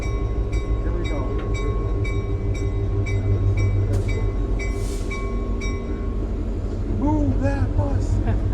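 A Lehigh Gorge Scenic Railway train rolls along, heard from the first car behind the locomotive, with a steady rumble, rhythmic clicks and repeated tonal squeals, while people talk over it.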